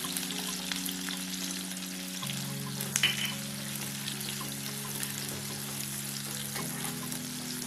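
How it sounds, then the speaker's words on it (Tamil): Chopped onions sautéing in a pan, a steady soft sizzle and frying hiss running throughout with a low continuous hum beneath and one brief faint clink near the middle. "வெங்காயம் நல்லா வதங்கட்டும்."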